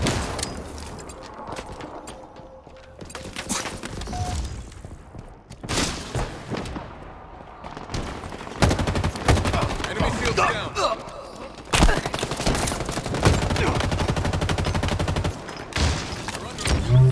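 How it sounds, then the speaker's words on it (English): Sustained gunfire in the Halo Infinite online multiplayer game on Xbox Series S, dense automatic bursts and booming impacts in long loud stretches, with game voice lines between volleys. "In a hail of gunfire."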